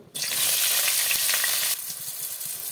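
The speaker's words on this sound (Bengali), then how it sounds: "তেলটা গরম হয়ে গেছে, প্রথমে আমি একটু বেগুনটা ভেজে তুলে নেব।" Eggplant drops into hot mustard oil in a kadai, setting off a sudden loud, close sizzle that holds steady, then eases to a quieter bubbling crackle.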